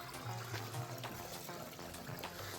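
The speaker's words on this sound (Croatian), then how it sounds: "Žubor vode." Babbling water in a village stream near an old watermill, a steady, fairly loud broadband rush with gurgling texture running continuously throughout.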